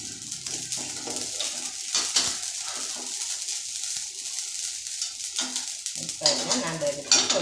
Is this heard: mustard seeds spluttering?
yes